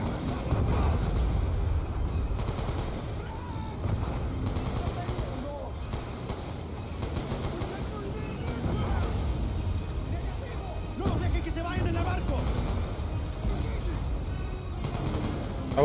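Continuous gunfire in Call of Duty Black Ops II, with dense overlapping bursts and game effects running loud throughout, while a voice talks over the action.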